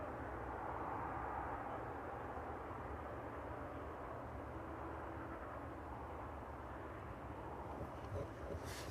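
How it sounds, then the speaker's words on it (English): A Jet2 airliner approaching East Midlands Airport to land on runway 27 in the evening, a steady distant engine roar that holds at a low, even level throughout, with light wind noise. "The Jet 2 just about to land into East Midlands onto runway 27 now."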